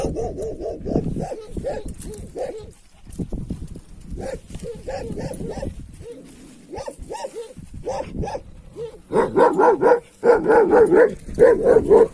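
A dog barks in quick bursts, close by, with a loud flurry of barks near the end; people talk and laugh around it.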